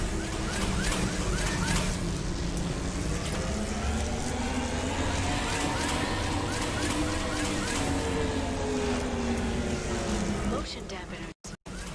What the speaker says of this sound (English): Navigating this storm is brutal.